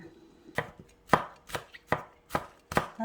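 Knife slicing kimchi thinly on a cutting board: six crisp, evenly spaced chops about every half second, close and clear in a quiet kitchen.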